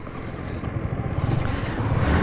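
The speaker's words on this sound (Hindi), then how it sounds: "तो बाइक स्टार्ट कर ली है," A running Yamaha MT15 V1 motorcycle engine rumbles steadily and loudly at idle, with a low throbbing pulse and some wind noise on the microphone.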